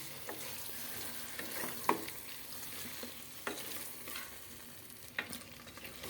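Marinated chicken pieces frying for biryani sizzle softly at low volume while being stirred, with sporadic scrapes and light clinks of the spoon against the pot.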